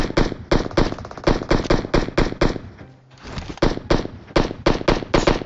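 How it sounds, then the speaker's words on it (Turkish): An SKS rifle in PUBG Mobile Metro Royale fires in rapid, loud bursts of sharp cracks, a brief pause in the middle before the volley resumes, with no talk. "SKS'yi sıkıyor Osman."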